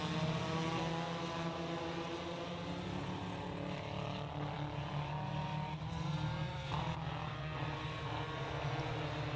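Race cars at Deep South Speedway roar together off turn four toward the green flag, a steady, dense engine drone that fills the scene at constant loudness.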